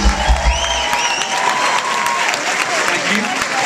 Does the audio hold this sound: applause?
yes